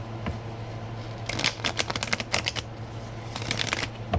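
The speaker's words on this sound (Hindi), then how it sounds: "Let's shuffle for Leo." Tarot cards being shuffled by hand, a fast run of crisp riffling flutters in two bursts over a steady low hum, close and fairly loud with no talk.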